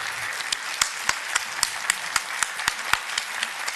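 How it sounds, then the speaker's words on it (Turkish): Audience at an amateur folk music festival in Mersin applauding the press, a close, loud burst of clapping with a few sharp individual claps standing out above the dense steady patter. "Onlar için, medya için, gazeteciler için bir alkış istiyorum."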